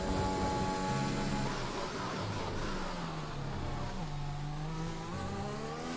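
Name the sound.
Formula 1 cars racing in F1 2021 video game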